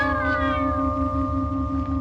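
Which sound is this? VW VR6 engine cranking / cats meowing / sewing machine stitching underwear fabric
cats meowing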